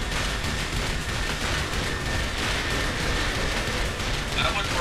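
Continuous loud gunfire and explosive noise in the Saints Row IV video game, a dense unbroken roar of shots and blasts with no clear gaps.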